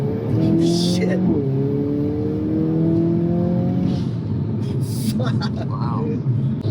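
A 2022 Hyundai Kona N with a piggyback tune accelerates hard, its engine droning and rising through the gears, with sharp exhaust pops and crackles near the end, heard from inside the car with people talking.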